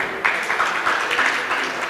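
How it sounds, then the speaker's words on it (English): An audience at an advanced microgrids workshop applauds in a dense, steady wash of clapping, close and fairly loud, with no talk. "Can we have a huge round of applause for him,"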